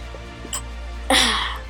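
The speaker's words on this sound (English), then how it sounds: "I have to sneeze again." A short sneeze erupts partway through, preceded by a brief catch of breath, over a steady low electrical hum.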